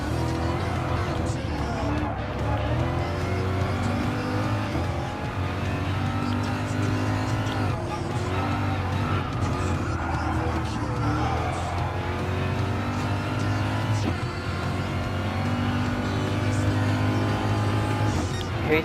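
A BMW M6 race car in Gran Turismo Sport drives at the Circuit de Barcelona-Catalunya, its engine droning steadily with shifting revs and the occasional tire squeal throughout, under faint commentary.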